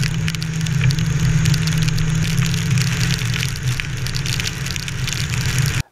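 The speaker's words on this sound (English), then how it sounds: "It was raining all the way there, hard in some places, soft in other places" Steady, dense rain drums on a surface close by, with a low engine hum underneath, as if heard from inside a vehicle.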